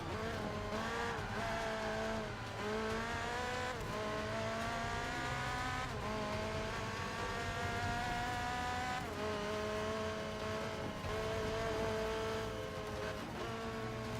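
Audi R8 race car in Forza 5 racing at speed under braking, a loud sustained engine whine with shifting harmonic pitch and tyre scrub running steadily throughout, no voices.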